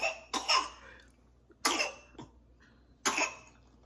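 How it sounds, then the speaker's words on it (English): A small child at home coughs in three separate bursts, each a quick cluster of two or three harsh, close-up coughs with quiet gaps between, no speech. "That's the cough."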